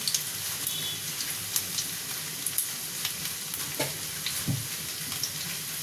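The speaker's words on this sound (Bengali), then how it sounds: "এটা একটু ভাজা ভাজা হোক, বেশ গন্ধটা ভালো বেরোয়।" Chopped ginger and garlic fry in hot oil for a vegetable tadka, a lively steady sizzle with light spatters and occasional spoon taps against the pan.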